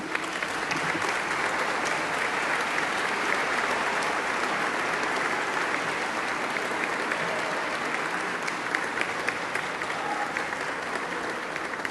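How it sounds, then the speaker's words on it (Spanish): A large crowd at a museum exhibition opening claps in a long, unbroken, uniform roar of applause that holds at the same level throughout. "yo les quiero pedir a todos un aplauso para los muchachos que están aquí"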